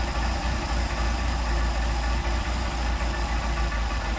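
Close, steady idle of a Mercedes 190SL engine fed by Solex carburetors, a loud continuous low rumble with a faint knocking pulse, the revs easing down slightly, no talking.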